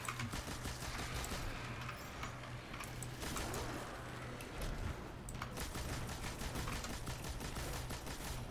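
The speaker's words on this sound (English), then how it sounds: "Legit make me thinking of Destiny 1 machine guns" Sustained rapid machine gun fire during a Destiny raid, dense continuous bursts under a busy, mid-level game soundscape.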